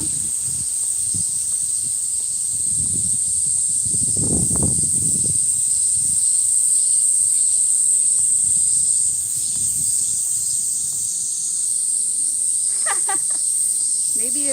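Cicadas drone loudly and continuously in a Tokyo park, a high steady buzzing wall over faint wind and footsteps, with a few brief voices near the end.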